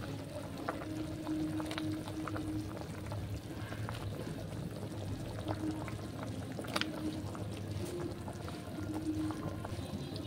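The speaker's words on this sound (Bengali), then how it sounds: "এবার আমার ঝোলটা ফুটতে থাক" Potato and tomato curry simmering in a pot, a steady low bubbling and gurgling that runs continuously at moderate level with faint occasional clinks, no voices.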